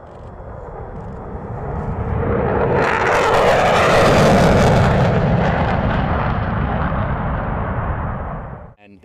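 F-15C fighter jet engine roars in a loud passing rush that builds to a broad peak at mid-clip, then fades away over several seconds.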